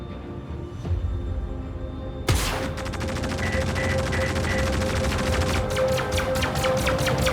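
Weapons fire from an Anvil Gladiator fighter in the space game Star Citizen, with a sharp blast followed by sustained rapid-fire bursts over a constant engine hum.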